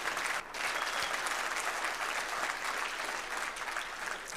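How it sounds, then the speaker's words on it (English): A crowd at a chamber of commerce annual dinner claps loudly and steadily, dense applause filling the room for several seconds without a break. "a big round of applause for Lindsay and the team for pulling off thi"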